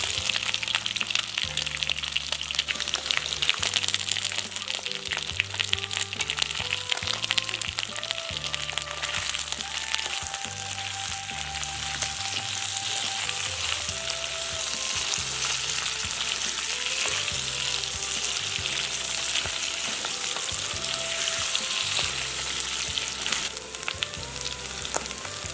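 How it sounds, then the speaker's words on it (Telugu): Boiled chicken gizzards with a little turmeric fry in a pan with a steady, close sizzle and occasional stirring scrapes, continuing under background music without talk. "ఇప్పుడు ఉడికించి పెట్టుకున్న గిజార్డ్స్ అలాగే కొంచెం పసుపు వేసి 1 నిమిషం పాటు ఫ్రై"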